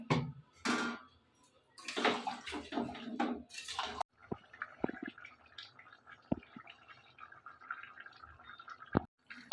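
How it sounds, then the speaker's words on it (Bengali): Boiled black chickpea cooking water is poured into a pot of pumpkin and potato curry in a few quiet splashing bursts, followed by soft drips and small clicks. "সেদ্ধ করে রাখা যে চানার জলটা রয়েছে জলটা দিয়ে দেবো"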